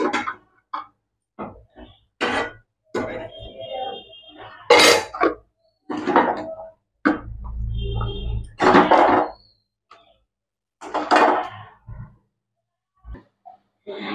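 A cooking pot of ridge gourd curry is lifted off a gas stove, giving clanks and thuds of metal scraping and knocking against the burner grate, close and moderately loud, with brief quiet gaps between.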